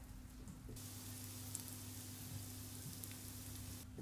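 Crispy bacon frying in a pan gives a steady, dense sizzle and crackle that holds evenly for a few seconds, close and fairly quiet, with no voices over it.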